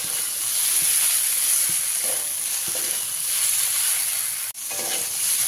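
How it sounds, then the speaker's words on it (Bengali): Fried potatoes are stirred into sautéed figs in a pan, giving a continuous loud sizzle with a few sharp clicks of the spoon and one brief pause in the sound, with no talking. "আলুগুলো দিয়ে একবার ভালো করে মিশিয়ে দেবো।"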